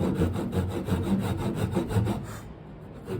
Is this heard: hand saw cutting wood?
yes